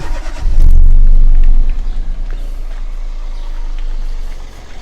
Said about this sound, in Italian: Quindi spengo i fari, avvio il motore